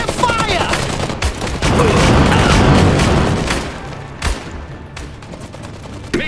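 Heavy gunfire in the Iron Harvest real-time strategy game: dense, loud volleys and bursts with booming impacts, peaking midway and then thinning to scattered shots, with faint voices in the mix.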